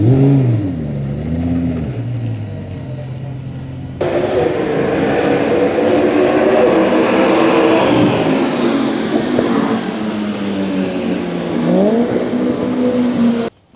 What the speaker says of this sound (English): I think I've got video of the car on track at Spa.